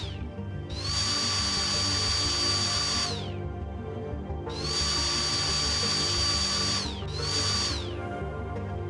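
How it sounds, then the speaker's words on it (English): A power drill in the VR game Battlecrafter bores into a rivet on an exhibit in three whining bursts, two long and one short, over a steady background hum. "First use drill on the rivet, then use chisel and hammer to remove it fully."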